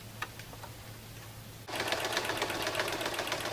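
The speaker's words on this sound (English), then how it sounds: "We're going to sew the outside stitch." A sewing machine starts up suddenly and runs a long outside stitch along a bag, a fast steady mechanical clatter that is close and fairly loud after a quiet hum.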